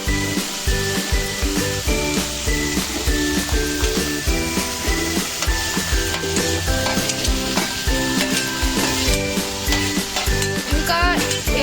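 An onion and chana dal curry mixture is stirred in a pan with a continuous sizzle and rhythmic scraping, partly masked by steady background music.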